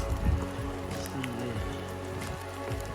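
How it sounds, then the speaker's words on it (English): Rain falls steadily on a wooded hiking trail near a bridge at Carter Caves, a continuous hiss of drops on leaves and ground, close and even, with a few heavier thumps early on and no talking. "the rain is starting to pick up"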